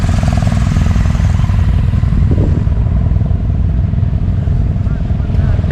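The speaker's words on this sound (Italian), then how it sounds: "Guardate gente in moto" Engine noise from motorcycles riding the Passo Giau mountain pass in the Dolomites rumbles steadily throughout, loud and continuous, with a person talking over it.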